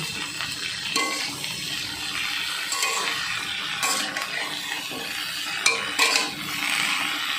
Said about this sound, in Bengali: কেটে রাখা সবজিগুলো দিয়ে দিচ্ছি পেঁপে আলু বেগুন গাজর আর টমেটো আর দু একটা বরবটি তেলের ওপরে দিয়ে ভালো করে নেড়ে নিচ্ছি